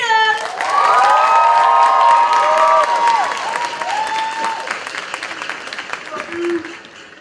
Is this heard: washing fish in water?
no